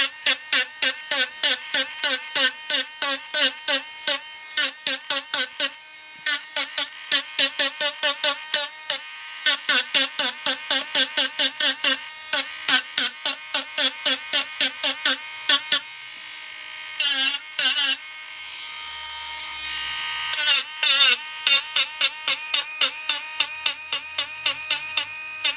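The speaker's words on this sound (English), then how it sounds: "I'm going to get my Dremel out right now, and we're going to get that extra paint off of her" A Dremel rotary tool taking excess paint off a Patsy doll, heard as loud rapid buzzing bursts repeated in a tapping rhythm, with short pauses and a few longer steady whirs between them.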